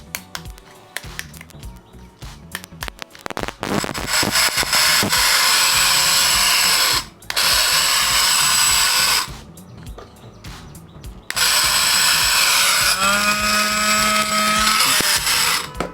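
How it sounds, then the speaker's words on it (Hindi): A repaired electric hand blender is switched on and runs in bursts, its high-pitched motor whine loud and close, cutting off briefly between runs before starting again, with no talking. "अब हम लोग इसको चला के देखेंगे चल रहा है दोस्तों।"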